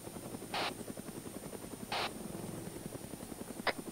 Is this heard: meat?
no